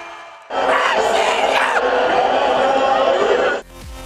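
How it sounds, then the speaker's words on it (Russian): Football fans in a sports park roar and chant together in a loud, dense crowd shout that starts abruptly, holds steady for about three seconds, then cuts off. "Крики «Россия вперед!» в парке спорта Алексея Смертина сливаются с радостью болельщиков"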